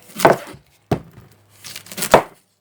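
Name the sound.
chopping an onion with a knife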